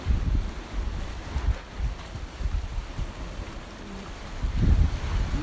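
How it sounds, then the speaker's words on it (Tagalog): Rough sea waves wash and surge along Church Bay beach in Bermuda, with heavy wind buffeting the microphone, a continuous low roar that swells in a couple of stronger bursts, and no voices. "Maalon yung dagat, oh."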